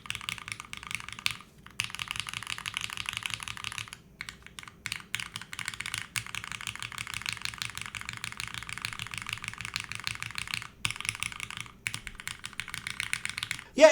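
Fast, steady typing on a compact ergonomic mechanical keyboard with a plateless, gasket-mounted build, bright clacky keystrokes running continuously at close range with a couple of brief pauses.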